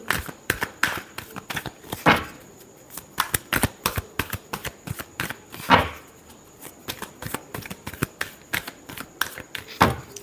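Tarot cards are shuffled by hand close up, an irregular run of crisp riffling bursts and soft slaps of the deck, with short pauses between shuffles.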